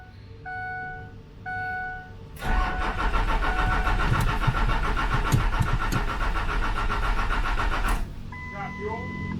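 A Cummins diesel in a Ford King Ranch truck cranks cold and fires, then roars loudly for several seconds and cuts off, with a warning chime beeping before and after.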